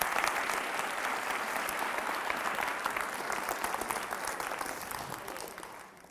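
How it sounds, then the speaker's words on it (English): Audience in a high school session breaking into sustained applause, dense and even clapping throughout that tapers off at the very end, with no talk over it. "Round of applause for Hannah."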